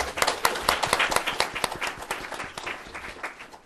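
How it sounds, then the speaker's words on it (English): An audience claps steadily at a panel event on environmental law in China, a dense, close round of applause that holds for several seconds and eases slightly toward the end. "I want to thank, one more round of applause for these guys."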